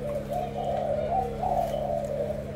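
Thai spotted doves keep up steady, rhythmic cooing from close by, with rolling low calls that repeat without pause and no voices over them.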